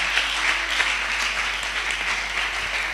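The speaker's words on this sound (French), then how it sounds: "Est-ce que nous pouvons encore acclamer très fort pour le Seigneur?" Steady applause from a conference audience at a religious gathering on the Holy Spirit, a dense sustained wash of clapping and cheering with no pause.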